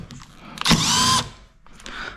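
Power driver with a T20 Torx bit backing a small machine screw out of a Nissan Altima quarter window trim, a loud high whirring burst of about half a second, close by, with quieter handling noises before and after.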